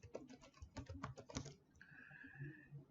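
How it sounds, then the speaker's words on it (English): Quick bursts of keystrokes sound on a computer keyboard, close and quiet, for about a second and a half, then give way to a faint tonal beep and soft background noise. "I again type in Kyle Cook, and I'm going to put in here CORS."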